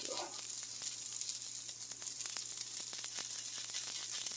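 Zucchini and pepperoni dippers sizzle steadily in a pan, a soft continuous frying hiss dotted with small crackles and pops, heard alone at moderate loudness.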